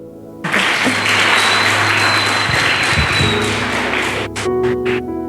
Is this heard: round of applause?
yes